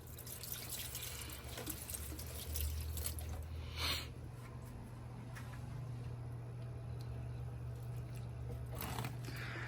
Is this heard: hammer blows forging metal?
no